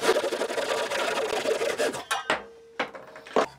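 A Japanese hand saw rasps through wood held in a guide for a square 90-degree cut, with steady close strokes for about two seconds, then a few separate short scrapes as the cut finishes.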